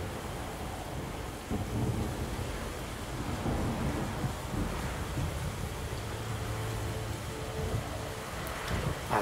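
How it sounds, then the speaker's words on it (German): Rain and rolling thunder from a nighttime thunderstorm in Witcher 3 on PS4, a steady broadband wash with low rumbling swells and some wind, continuous and fairly loud with no talking. "Es regnet. Es ist Nacht."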